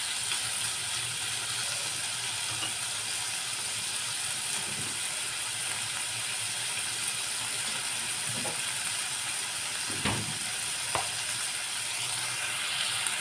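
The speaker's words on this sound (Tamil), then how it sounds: "நல்லா வெங்காயம் வதங்கிடுச்சு" Onions sautéing in ghee with salt give a steady, close sizzle throughout, with a few brief scraping or clicking stirs near the end and no talking.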